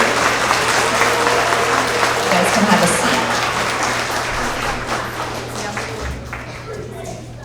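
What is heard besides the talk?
applause for kindergarten students at award assembly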